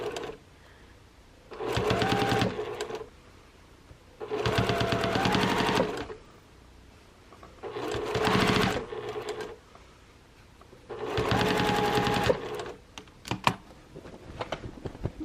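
A sewing machine binds a quilt edge in four loud bursts of rapid stitching lasting a second or two each, separated by quieter pauses with small clicks and handling noise.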